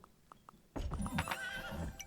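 A horse whinnies in the video game Kingdom Shogun, a loud close neigh that fills the second half after a few faint clicks, with a shorter whinny trailing off near the end.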